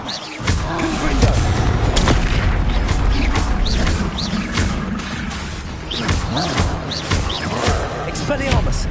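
In a Hogwarts Legacy duel, Confringo blasting spells go off as repeated booming bursts and crackling impacts amid continuous dense combat noise, with a fast irregular rhythm and loud, close sound.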